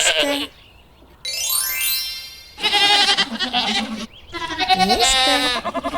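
Goats bleat in a run of several loud, close calls, one with a rising, strained pitch, separated by brief gaps.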